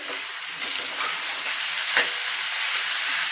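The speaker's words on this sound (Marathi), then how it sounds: "हा भात आपल्याला ना असाच परतून परतून घ्यायचा आहे" Leftover rice stir-fried in oil in a pan, a continuous close sizzle with brief scraping stirs, loud and steady with no talk.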